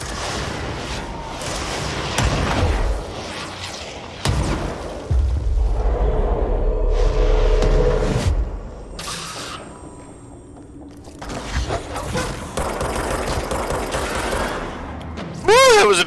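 Gunfire rattles in the video game Control in loud volleys and booming bursts, with a quieter lull midway and a voice talking over parts of it.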